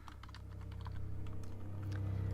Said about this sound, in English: I can't work a keyboard today.